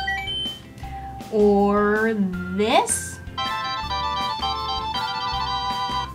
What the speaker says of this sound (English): you can get some pretty cool notification tones like this